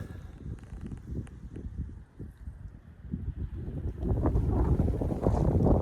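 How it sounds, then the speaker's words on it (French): Steady wind buffets the microphone with low rumbling gusts at an outdoor .22 Long Rifle shooting session, growing louder and stronger toward the end; no one speaks. "Putain de vent."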